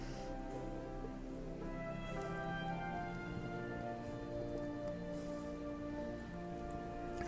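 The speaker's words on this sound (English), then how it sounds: "if you sit by them when the rain's coming in, you're going to get wet" Steady rain falls in World of Warcraft, pattering in through the open trellis windows of a guild hall library, a continuous even wash over soft tonal background music, with no voices.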